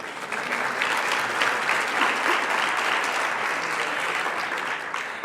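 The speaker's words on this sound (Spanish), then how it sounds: "Aplaudamos después que suba cada uno, ¿no?" Audience at a circular economy forum panel applauding steadily, a thick, even roar of many hands clapping for several seconds with no break.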